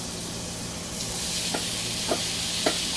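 Shrimp sizzle in melted butter in a pan for scampi-style linguine, a steady close hiss with a few soft stirring scrapes and no talking.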